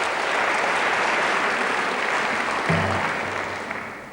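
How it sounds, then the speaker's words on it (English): Sustained audience applause for the musicians at a cello masterclass, dense and steady for about three seconds, then thinning and tapering off toward the end, with a brief low tonal sound entering near the close. "Bravo, messieurs. We applaud"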